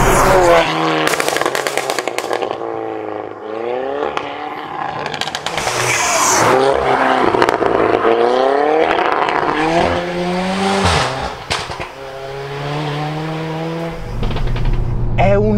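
A tuned Alfa Romeo Giulietta Quadrifoglio, boosted from 310 to over 400 horsepower, revs hard through repeated rising gear pulls with brief drops between shifts. The engine is loud and close throughout, with speech partly audible over it.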